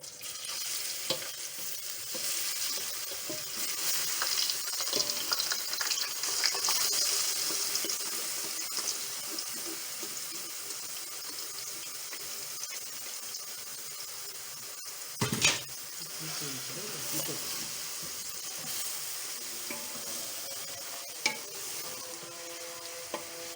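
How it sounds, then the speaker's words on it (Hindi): Grated bottle gourd (lauki) being fried in a pan for halwa, a faint steady sizzle with occasional stirring scrapes and one sharper clatter midway, no talking. "हम भून रहे हैं, आप देख सकते हैं।"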